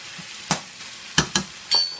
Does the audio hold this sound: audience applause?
no